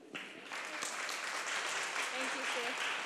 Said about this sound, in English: Let's give our hearts and our applause to the performers.